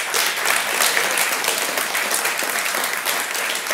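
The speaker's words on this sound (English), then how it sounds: "I would like to have a warm applause." A live audience at a talk on Shell and multinationals breaks into warm applause, dense steady clapping filling the room at an even level throughout, with no voices over it.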